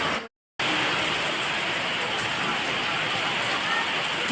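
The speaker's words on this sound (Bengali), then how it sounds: "দেখো কি পরিমাণ বৃষ্টি হচ্ছে ঝড়ও হচ্ছে হালকা" A dense, steady roar of heavy rain with light wind pours down without letup after a brief moment of silence at the start.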